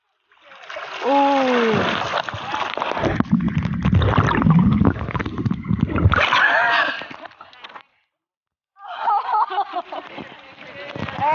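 Sea waves splash and surge against rocks in loud bursts at Wediombo Beach, Gunungkidul, Yogyakarta, with people's voices over it, then a brief quiet before more churning water.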